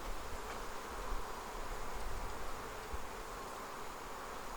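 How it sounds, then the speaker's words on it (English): Honey bees buzzing around an open beehive during winter feeding, a dense, continuous droning hum from many insects, close and steady with slight swells, no voices. "A lot of bees."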